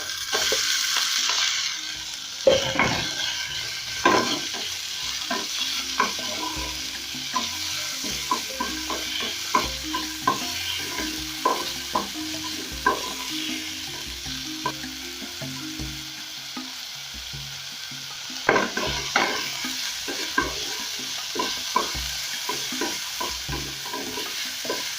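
Marinated pork sizzles and fries with translucent onions in a pan, a steady broadband hiss running the whole time, broken by frequent sharp clatters and scrapes of a utensil stirring. There is no talking.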